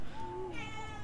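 A house cat meows in the background of a Hearthstone game session, one drawn-out, rising and falling meow at moderate distance, fairly faint but clear over a quiet room.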